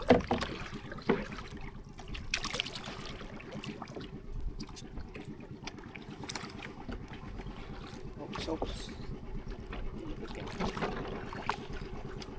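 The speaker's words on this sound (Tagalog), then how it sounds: "Babatakin na yung aming bangka papunta doon sa San Benito." A boat's motor drones steadily over a lake in Laguna, Philippines, as it tows a boat, with faint voices in the background throughout.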